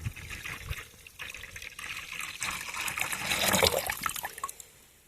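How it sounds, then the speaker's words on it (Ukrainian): Hot water splashes and trickles into a container of copper sulfate solution for garden spraying, a close, bubbling pour that swells in intensity and then tapers off. "І заливаємо обов'язково гарячою водою."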